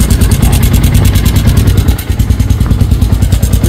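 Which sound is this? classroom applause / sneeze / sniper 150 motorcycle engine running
sniper 150 motorcycle engine running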